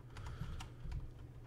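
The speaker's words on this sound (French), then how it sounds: "J'espère que vous entendrez pas trop mon clavier" Quiet typing on a computer keyboard, a handful of soft rapid key taps over a low steady hum, with no voices.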